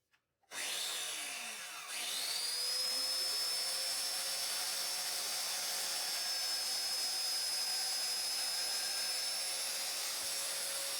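Festool Domino joiner cutting a slot for shelf alignment on a Festool MFT table: the motor spins up sharply, then holds a steady high whine with a plunging cut, loud and close, with no talk.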